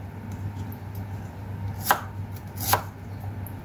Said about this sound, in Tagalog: Hiwain din natin ng maninipis na pahaba.